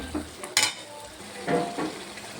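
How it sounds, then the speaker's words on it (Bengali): Spices and potatoes being stir-fried in a pan, with a few brief bursts of sizzle and spatula scraping spread over a couple of seconds, close and moderately loud. "এবারে দেখো মশলাটা আবার দিয়ে দিয়েছি, ভালো করে কষিয়ে নেব।"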